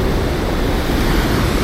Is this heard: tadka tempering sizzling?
no